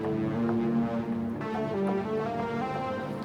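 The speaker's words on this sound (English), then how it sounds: "So I used Cult as a new synth I got, and it's absolutely fantastic." Sustained long lead notes from the Cult synth preset, reshaped with added modulations, playing a slowly shifting melodic line, loud and close with rich harmonics and no talk.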